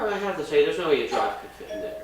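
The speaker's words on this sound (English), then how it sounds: "Sorry, that was the doorbell." A doorbell chimes indoors during a laptop unboxing, ringing out in a couple of tones beneath steady talking from a nearby voice.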